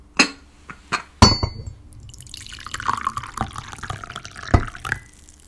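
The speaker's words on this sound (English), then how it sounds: "Let's pour that happy tea." Tea poured from a pot into a cup, opening with a few sharp clinks of crockery followed by a soft trickling pour and occasional light knocks, close and quiet.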